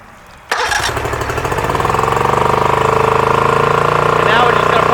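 A 3-cylinder Mercury outboard motor cranks and fires up abruptly, then settles into a loud, steady, rhythmic running close by, with a slightly uneven throb from a fault where it runs on one cylinder.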